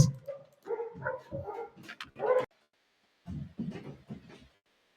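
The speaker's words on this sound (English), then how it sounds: "I apologize for the dogs going crazy." Dogs bark and yip in excited bursts, with a short pause before another round of barking; fairly close and loud.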